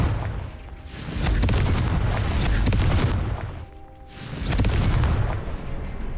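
The Confringo fire spell goes off in Hogwarts Legacy with two deep, rumbling booms a few seconds apart. Each swells into a loud blast and crackling debris, then fades, with no talking.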